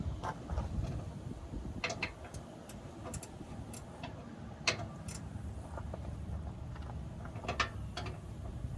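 A ratchet wrench clicks in irregular runs as it works loose corroded fuel tank bracket bolts on a cabover truck, with metallic clanks over a steady background rumble.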